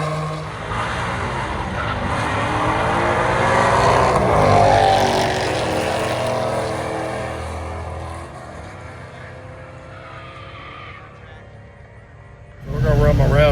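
Engine roaring from a drag racing car at a Somernites Cruise car show, loud and sustained as it accelerates then fades away, with a fresh burst of engine noise near the end and voices underneath.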